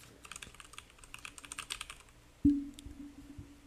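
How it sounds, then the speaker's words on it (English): A loud computer keyboard clatters with rapid, uneven bursts of key presses during a gaming stream, followed by a sudden low tonal thud-like game sound that rings on briefly. "Lakas pala ng keyboard ko."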